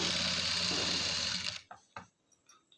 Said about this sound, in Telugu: దీనిపై నుండి మనం ఒక టాప్ స్టిచ్ వేసేయాలి